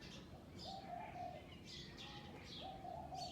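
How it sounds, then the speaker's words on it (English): A bird coos softly and repeatedly at a distance, with faint chirps scattered over a quiet outdoor background. "Do you hear that bird?"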